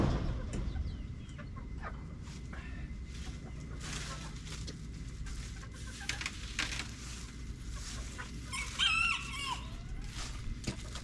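Chickens cluck and murmur softly in the background, with a brief louder squawk near the end, over a low steady outdoor hum on a snowy Tennessee homestead.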